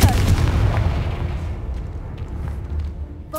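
Confringo fire spell explosion from the Hogwarts Legacy video game, a loud booming blast that hits at the start and rumbles away over a few seconds.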